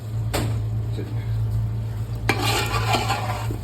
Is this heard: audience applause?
no